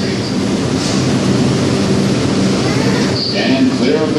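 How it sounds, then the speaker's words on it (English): Onboard an NYC subway R142 5 train heading to Bowling Green, a loud steady rumble of wheels and car noise fills the ride, with a faint tonal whine rising near the end. "This is a Bowling Green bound 5 train."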